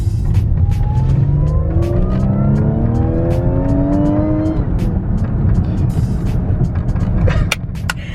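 A supercharged Audi tow rig drops a gear and revs, the engine roaring loud and close with rising supercharger whine and climbing engine tones over a heavy rumble, then easing off near the end.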